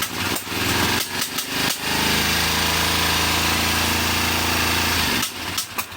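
A Honda GL500 (CX500) motorcycle engine runs close by, revving in a few bursts before settling into a steady loud drone, with a soft airy throttle-plate whisper riding above it, then dropping away near the end.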